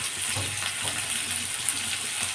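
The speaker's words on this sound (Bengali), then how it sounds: "এবার এটা আমি একটু গ্যাসটা কমিয়ে ভেজে নিচ্ছি" Potatoes and pointed gourd fry in a pan over lowered gas, giving a soft, steady hiss and sizzle up close, with faint stirring and no voice.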